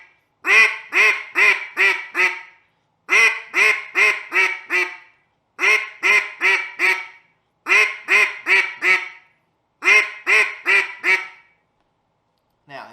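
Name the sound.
duck call blown to imitate duck quacks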